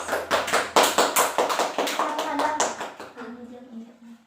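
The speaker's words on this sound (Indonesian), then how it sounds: "give applause, guys" A class applauds together, a burst of clapping hands that is loud and dense at first, then thins out as a few voices murmur beneath it.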